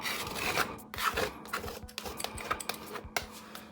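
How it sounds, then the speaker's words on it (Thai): Glue being scraped lightly off a Dell monitor panel after adhesive remover was poured on, giving a series of short rasping scrapes in an irregular rhythm, close and fairly loud, with no talking. "เสร็จแล้วก็ล้างขูดเอากาวออกนะครับขูดก็ขูดเบาๆครับ"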